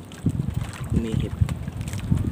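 Wind blowing at sea from a small boat out on the water: a constant rushing buffet with low rumbling thumps and a faint voice underneath.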